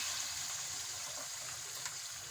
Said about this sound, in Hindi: पानी ऐड करके